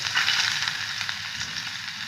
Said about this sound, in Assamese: আমাৰ চচপেন গৰম হৈ গ'ল তাত আমি প্ৰথম পিঁয়াজখিনি ধুনীয়াকৈ দি ল'লোঁ